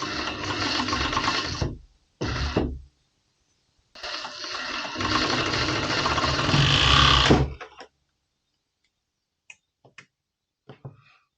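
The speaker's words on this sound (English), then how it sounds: "as we are using jersey, we are doing all this with the overlock" An overlock sewing machine stitches jersey fabric in loud, close bursts of rapid motor whir: two short runs, then a longer sustained run, followed by quiet with a few faint clicks.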